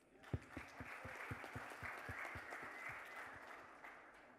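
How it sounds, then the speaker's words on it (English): Applause at a lifestyle brand premiere event, a scattered crowd clapping at moderate distance, starting with a few distinct claps and then blending into a softer, steady wash. "Can we have an applause, please?"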